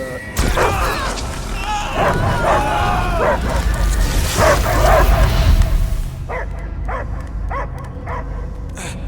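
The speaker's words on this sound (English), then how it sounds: "I hear only barking" In Marvel's Guardians of the Galaxy, a dog barks and whimpers amid game sound effects and voices, then several short sharp barks come in quick succession near the end.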